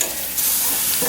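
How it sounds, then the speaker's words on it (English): Sausage and bacon fry in a pan while being turned with a fork, giving a continuous close, loud sizzle and crackle with faint scraping, and no voices. "We turn this piece of sausage"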